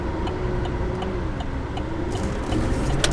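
A 2022 Chevy Silverado 2500 Duramax or RAM 2500 Cummins diesel pickup pulls away at part throttle, its low engine drone steady and close with a faint ticking on top, swelling slightly louder near the end.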